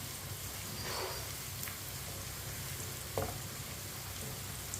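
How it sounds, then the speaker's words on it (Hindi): Onions frying in a pan for moong dal over a medium flame, a soft steady sizzle with a couple of faint stirring clicks; quiet and alone. "प्याज को हल्का सा ब्राउन कर लेंगे"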